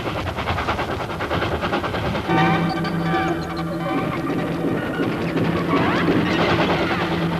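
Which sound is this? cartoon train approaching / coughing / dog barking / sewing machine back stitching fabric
cartoon train approaching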